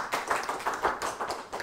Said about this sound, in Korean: 큰 환영의 박수 부탁을 드립니다.